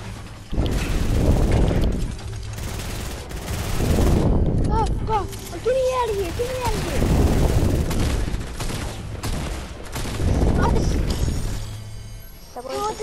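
Bursts of gunfire ring out in Fortnite, several loud volleys of a few seconds each spread across the stretch, with excited voices talking between and over them.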